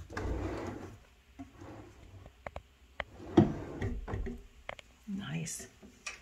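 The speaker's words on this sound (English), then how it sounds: "There's a little drawer here." A small drawer in a house is opened and closed, giving a few light wooden knocks and slides close by, with people talking over it.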